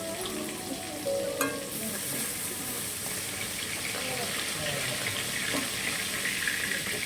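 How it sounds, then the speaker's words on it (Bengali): Magur catfish sizzles in oil in a hot kadai, a steady broadband frying hiss that holds for the whole stretch with faint stirring and clinks close by. "মাছটা কিন্তু আমার ভাজাও হয়ে গেছে দেখতে দেখতে"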